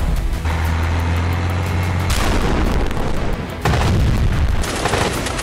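Explosions from fighter jet strikes on Hezbollah targets in Lebanon, loud sustained rumbling booms with abrupt shifts in intensity, dense and continuous throughout.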